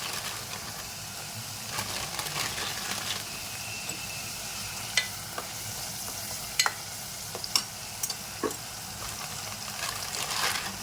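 Masala for matar nimona fries and sizzles steadily in a pan, with a spoon stirring through it and scraping now and then, close and continuous with no talking.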